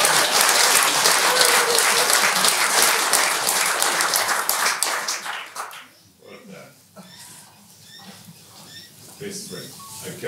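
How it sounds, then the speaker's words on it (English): Wedding guests clapping, a loud, close burst of many hands that carries on for several seconds, then fades to scattered claps with faint voices and a dog barking in the background. "I think let's give him a big clap."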